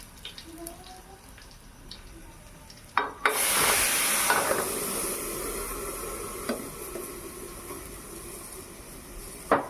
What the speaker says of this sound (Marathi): तेल आपलं गरम झालेलं आहे तर आपण आता फोडणी घालूया